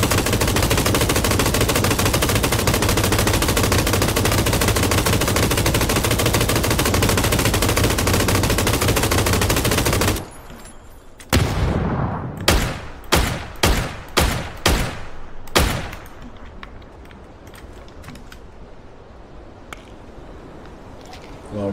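Suppressing machine gun fire in a video game shooter: about ten seconds of dense, loud continuous automatic fire, then a pause followed by a string of separate sharp bursts that fade into quieter scattered shots.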